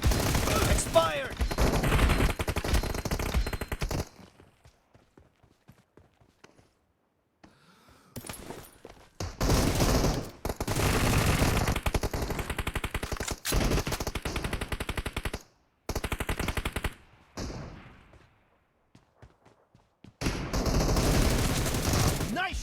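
Loud automatic weapon fire in PUBG arena combat, coming in long bursts separated by short silences, with brief game voice callouts between volleys.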